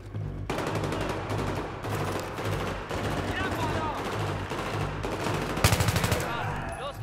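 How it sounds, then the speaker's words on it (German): Rapid bursts of automatic gunfire from the Battlefield 3 single-player campaign crackle almost without pause, loud and close, with a sharper, denser volley near the end and faint game ambience underneath. "So, ich habe ihm ins Knie geschossen."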